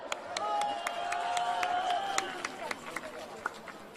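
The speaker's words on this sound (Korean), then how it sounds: "큰 박수로 맞아주십시오." An audience applauds and cheers to welcome a speaker at a political rally, a dense burst of clapping with a few sharp claps standing out, with voices mixed in.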